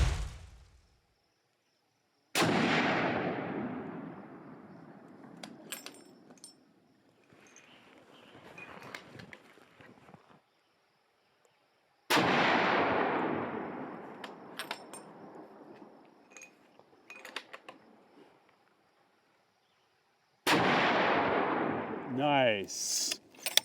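Three loud .375 CheyTac rifle gunshots fired several seconds apart outdoors, each a sharp blast with a long rolling echo that fades, followed by faint voices between shots.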